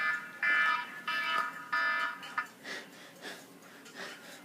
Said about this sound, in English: Sorry, it's my alarm.